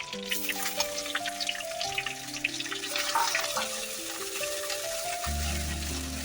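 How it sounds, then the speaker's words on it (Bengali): Whole garam masala sizzles and fries in hot oil as ginger paste goes in, a continuous close crackle with stirring and faint clinks. "গোটা গরম মশলা, একটু নাড়াচাড়া করার পরে দিয়ে দেবো আদা বাটা"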